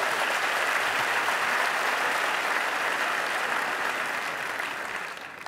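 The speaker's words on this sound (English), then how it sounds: "please use your free hand to clap with your neighbor next to you and give a hand to the Instagram founders" Audience applause for the Instagram founders at the SXSW 2019 keynote: a dense, steady wash of clapping from a large crowd, loud and sustained, tapering slightly toward the end.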